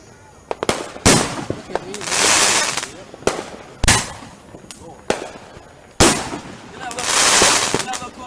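Fireworks go off nearby: a series of sharp loud bangs, some followed by long crackling fizzes, with people talking in between.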